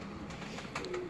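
Low, soft cooing from breeder pigeons at a home loft, a brief murmuring call set against faint ambient noise.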